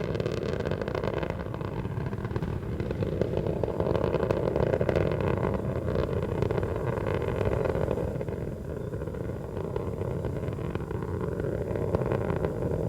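Space Shuttle Atlantis's three liquid-fuel main engines roar steadily through launch, throttling back as the vehicle climbs. The sound is a dense, continuous, distant rumble with no voices.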